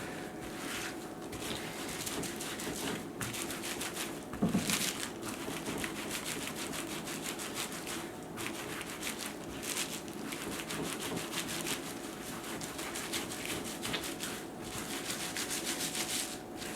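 A felting tool rubbed over wet felt gives a continuous scratchy, rhythmic rasping close up, with faint regular pulses running steadily throughout and a brief knock partway through.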